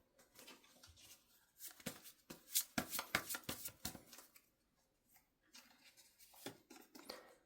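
Tarot cards being shuffled and drawn during a reading: papery riffles, slaps and flicks come in uneven bursts, close and fairly quiet, with a few short pauses.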